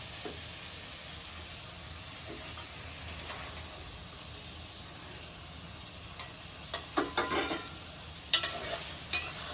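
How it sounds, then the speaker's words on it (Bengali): Shrimp go into a well-cooked, sizzling curry masala in a pan for a malai curry: a low steady frying hiss, then a cluster of sharper crackles and spatula clatters toward the end, close and fairly quiet, without talk. "এবারে আমি চিংড়ি মাছটা দেবো।"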